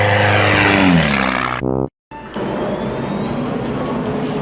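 A loud aircraft engine roars past with its pitch sliding downward, cuts out abruptly, then returns as a steady droning hum.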